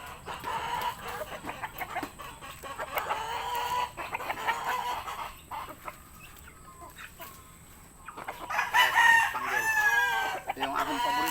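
Several chickens cluck busily nearby, and a rooster crows loudly toward the end, with a faint voice in the background.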